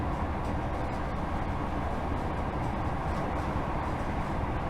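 An East Midlands Trains Class 158 diesel unit running at close to 70 mph, heard from onboard as a steady, loud, broadband rumble and rush with no breaks or voices.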